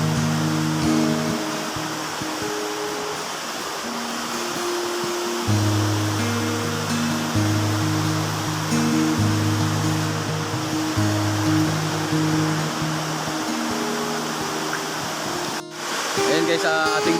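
Water rushing steadily over Wawa Dam in Montalban, Rizal, a loud continuous roar of flow with a low tonal drone that shifts in pitch, and no clear voices over it.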